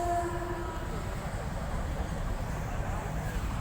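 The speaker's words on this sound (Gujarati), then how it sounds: "માલગાડી" A freight train rumbles past close by at a railway crossing, a steady heavy roar of wheels on track, with a brief horn-like tone at the very start.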